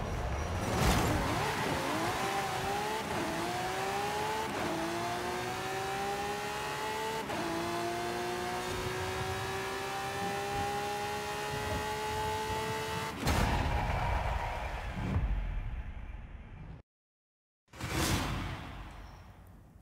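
A drag car engine in Forza Horizon 5 screams through a run, rising in pitch through repeated upshifts with a whooshing rush, loud and steady, then cuts off abruptly before a final brief burst.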